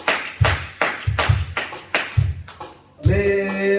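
A church congregation clapping in rhythmic bursts, about five loud claps at a steady pulse, followed by a held sung or spoken tone as a voice begins.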